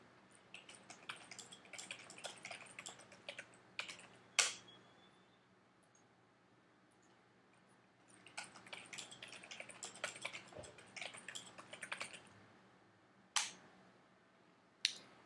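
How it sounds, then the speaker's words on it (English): Quiet clicky typing on a computer keyboard in two bursts of rapid keystrokes, with a few louder isolated clicks and a short pause between, entering map titles with no talking. "Then I click and I type."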